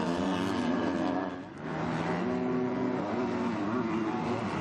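KTM MX2 motocross bikes race through sand at the MXGP of Latvia, engines droning loudly and steadily with rising and falling revs, briefly dipping before climbing back to a sustained roar.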